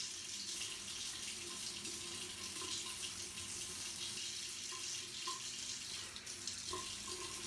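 Steady running water from a tap into a sink while a face is rinsed after a traditional shave, continuous and fairly close, with a few faint splashes and no talking.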